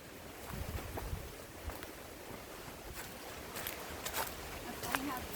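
Strong wind whips through treetops above a forest trail on the Cypress Dome Trail, a loud, continuous broadband rush with gusty swells and brief bursts that rise and fall throughout.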